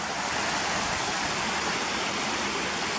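Cotter Force waterfall pours into a river, a constant loud rushing roar of falling and flowing water with no voices.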